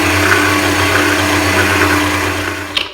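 Electric mixer whipping cream with a couple of drops of vanilla extract for tiramisu, a steady loud motor whir holding constant throughout with a slight dip near the end.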